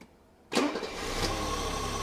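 A car with Bosch K-Jetronic fuel injection cranks and fires, catching abruptly after a quiet moment and then settling into a steady close idle, with no talk.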